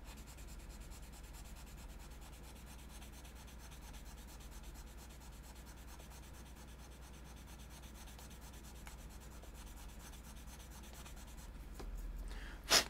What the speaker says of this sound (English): And this is a fairly aggressive sandpaper. I think this is about 400 or so.